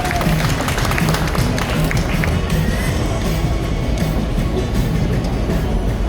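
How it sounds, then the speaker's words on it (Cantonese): An audience at a Samsung launch event claps in a steady, dense wash of applause that stays even and loud throughout, with crowd noise mixed in. "大家俾啲掌聲"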